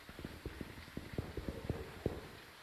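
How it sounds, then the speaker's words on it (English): Ghost footsteps in the video game Phasmophobia sound as a quick run of soft, thudding steps that overlap in an uneven patter. The steps are faint and fairly close, heard alone with no talk. "So do you kind of hear the footsteps on how like they kind of overlap each other?"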